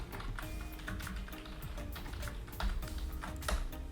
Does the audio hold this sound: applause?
no